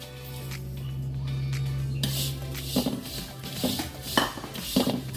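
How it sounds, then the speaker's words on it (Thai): Finely crushed eggshells are stirred and scraped in a pan for roasting, with scattered gritty scratching and metallic scrapes after a steady background hum fades out. "เราจะนำเปลือกไข่ที่เราตำละเอียดแบบนี้แล้วนะครับ มาใส่กระทะเพื่อทำการคั่วกันเลยครับ"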